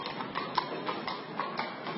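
Horse hooves clip-clop steadily on pavement as a horse-drawn carriage moves through New York City, a regular moderate tapping over a constant background hum.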